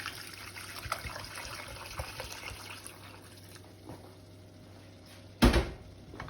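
Hot water poured into a pan of dried pasta for chicken parmigiana makes a steady close trickle and splash, ending in a sharp clunk of the pan near the end.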